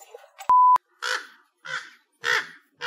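Crows caw outdoors in four harsh, evenly spaced calls, close and fairly loud, with a short electronic beep just before them.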